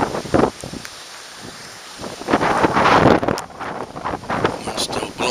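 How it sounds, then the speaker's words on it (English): Gusty wind blows outdoors in the aftermath of Hurricane Irma, buffeting the microphone with loud, uneven roaring surges and rustling that swell and fade across the clip. "Wind's still blowing."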